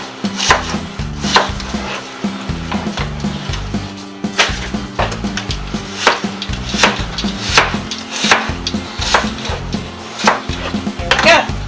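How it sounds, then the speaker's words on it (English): A knife cuts apples into small slices on a board, giving a steady run of close, crisp chops and taps repeated in a quick, even rhythm. "I just make little slices, and I'm just going to continue to do that until I get through all the apples"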